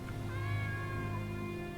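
A cat in the Skyrim video game meows in a single drawn-out, rising-and-falling call, clear and close over a soft steady game backdrop.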